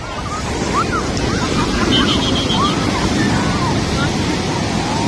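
Constant roar of sea waves and surf at night, with wind buffeting the microphone and faint voices in the background.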